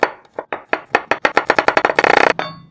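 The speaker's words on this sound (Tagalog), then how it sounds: "At hiwain natin yung ating bawang." A knife slices garlic on a cutting board in quick, crisp taps that speed up into a rapid run of close, sharp chops before stopping.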